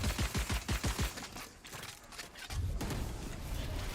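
Rapid gunfire bursts in a Valorant esports match, a quick run of sharp shots in the first second and a half, followed by quieter clatter and a steady noisy game bed.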